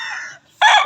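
A game fowl stag rooster crows on a game farm, a short loud call broken by a brief pause before a second burst, close by with no talk.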